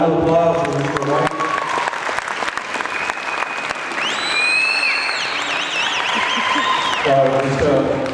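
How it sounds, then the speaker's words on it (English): Crowd applause at a powwow for an honored guest, sustained and loud across the whole stretch, with tonal singing or whistle-like sounds rising over it midway and a voice coming in near the start and end. "one more time, a round of applause for Mr. White"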